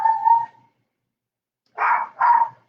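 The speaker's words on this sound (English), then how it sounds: "Gracie thinks she needs to bark." A pet dog barks indoors at home, a short yelp followed after a pause by two quick, close, fairly loud barks.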